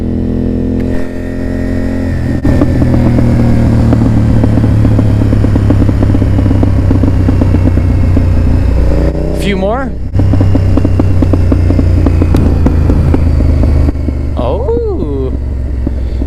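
A motorcycle engine idles and revs loudly up close, with crackling exhaust pops between throttle blips; someone speaks briefly.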